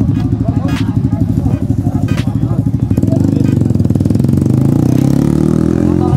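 A motorcycle engine idles close by with a steady, chugging low pulse that settles into an even drone, while voices talk over it.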